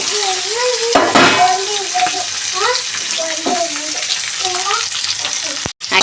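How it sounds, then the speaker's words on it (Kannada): Spices frying in a pan for Mandya-style chicken chops, a close steady sizzle with stirring scrapes and a sharp knock near the end, while a bird chirps faintly behind. "ಹಾಗಾಗಿ ಸ್ವಲ್ಪ ಫ್ರೈ ಮಾಡ್ಕೊಳ್ಳೋಣ ಬಿಟ್ಟಿದ್ದೀನಿ"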